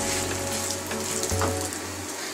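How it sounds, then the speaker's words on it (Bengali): Rice with green chilies sizzles in a pan while being stirred for a shahi polao, a dense continuous frying hiss over a low steady hum, with no voices. "ভালো করে চালটাকে নাড়াচাড়া দেব।"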